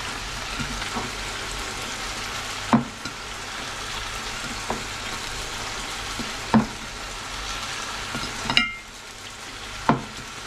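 Chicken breasts and plantain sizzle steadily in hot frying oil, a dense continuous crackle with a few sharper pops and clinks from stirring, close and moderately loud with no talking.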